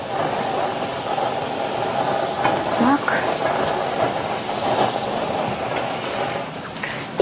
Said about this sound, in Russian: а теперь на сковородку выкладываю сюда цукини